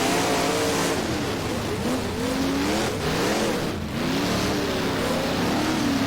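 A big block race car engine roars continuously under throttle in rFactor, its pitch rising and falling as it revs and lifts at Ohsweken, loud and close throughout with no speech.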